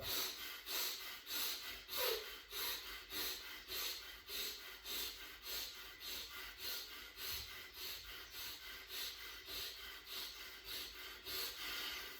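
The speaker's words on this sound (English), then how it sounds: "Final time, breathing in, faster," Fast, hard rhythmic breaths in a breathwork session, a long run of quick airy pulses at just under two per second, close and steady, with no talking.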